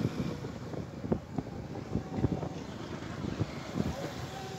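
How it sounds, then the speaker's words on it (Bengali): A motorbike rides along the winding, hilly Bhanugach road with a low, steady engine rumble, heavy wind buffeting the microphone and faint thumps from the road. "প্রান্তে মোটর বাইকটা চালাচ্ছি"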